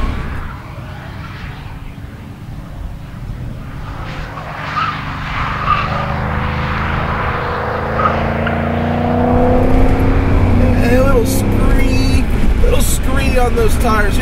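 A supercharged Porsche 928S drives hard on a partly wet race track, its engine note rising and falling steadily in the cabin while tires squeal and someone talks over the car throughout.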